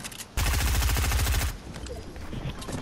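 Rapid automatic gunfire in the video game Fortnite rattles off in one loud, dense burst of about a second, followed by quieter game sounds and faint background noise.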